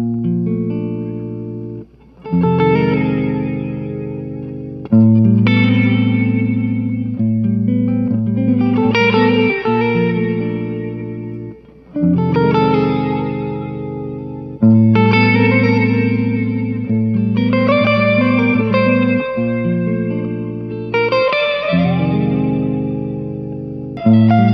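Electric guitar played through a JOYO Atmosphere reverb pedal in Comet mode, loud chords and arpeggios swelling into a shimmering, modulated reverb wash with echoing trails between phrases, no talking.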